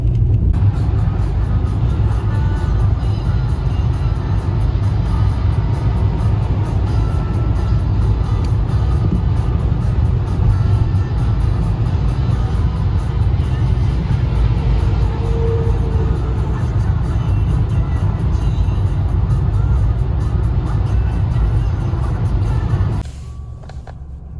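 A car drives along a road, giving a steady, loud engine and tire rumble throughout that cuts off abruptly near the end, with no talking.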